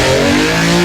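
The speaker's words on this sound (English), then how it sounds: "the roar of a V12 wide open" A Ferrari 275 GTB V12 roars at wide-open throttle, a loud, sustained, close engine note with steady harmonic tone throughout the brief burst.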